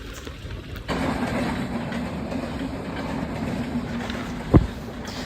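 A train rolls past at a railway crossing in Bangladesh, a steady close rumble of wheels and cars holding for several seconds, with one sharp louder clack near the end.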